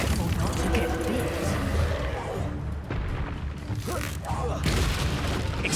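A Confringo explosive spell goes off during Hogwarts Legacy combat, giving loud rumbling booms and blasts over dense battle noise, with voices calling out spells.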